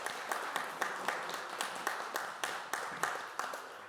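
Scattered applause from a small audience at a lighthearted April Fools' research talk, individual claps thin and uneven, fading in and out over a few seconds with no talking.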